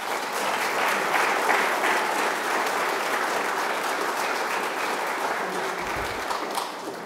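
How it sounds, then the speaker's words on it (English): Sustained applause from a crowd at a Children's Day event, steady dense clapping that carries on for several seconds at an even level. "give the boys and girls a big round of applause there."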